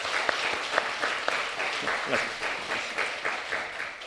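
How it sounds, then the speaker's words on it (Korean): A church congregation claps in welcome for a newly registered member during Sunday worship, a dense, even round of applause filling the sanctuary without speech over it. "환영의 박수 한번 보내주시기 바랍니다"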